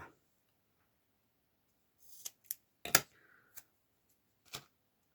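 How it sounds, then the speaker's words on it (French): Scissors snipping through card for a scrapbooking card, a handful of short, crisp close-up cuts and clicks spaced irregularly after a quiet start, with faint handling rustle between them. "Alors, les ciseaux pour couper."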